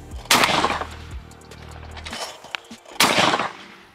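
Browning semi-automatic shotgun firing heavier waterfowl loads at clay targets outdoors, two sharp loud blasts about three seconds apart, each with a short rumbling echo.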